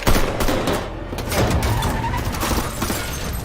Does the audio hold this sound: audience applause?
no